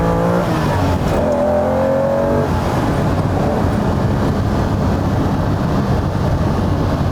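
A 1968-era Ferrari 365 GTB/4 Daytona accelerates hard out of a bend on an open road, its engine roaring loud and steady throughout with a rising rev tone early on and no talking.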